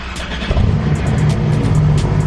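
A car engine cranks and catches after the key is turned, then settles into a loud, close, rough idle that continues steadily without pause.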